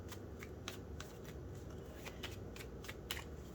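A deck of cards being shuffled up close, with a quick series of riffling flutters and soft snaps repeating in a steady rhythm, and no one talking.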